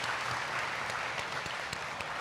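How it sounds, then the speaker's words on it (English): An awards-night crowd at a university athletics ceremony claps steadily, a dense, even patter of applause filling the room with no speech over it. "let's do a round of applause for everybody"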